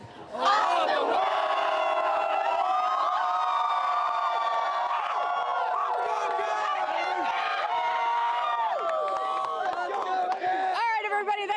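A large crowd at the Washington Capitals victory parade roars and cheers continuously, with shrill whoops and sustained yelling rising over a dense wall of voices, loud and close throughout.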